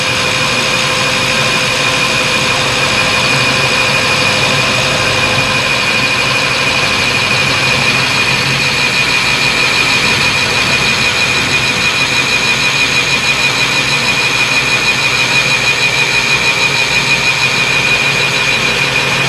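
A freshly tuned chainsaw engine runs continuously at a high steady whine, loud and close, holding an even pitch throughout with no talking.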